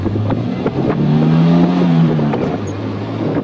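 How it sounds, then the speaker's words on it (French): The J engine of a Renault 21 TXE Nevada runs smoothly up close, a low idle swelling into a brief, even rev before settling back to a steady hum. "Un quart de tour et le moteur J démarre sans une seule vibration, dans un feulement digne de chez Jaguar"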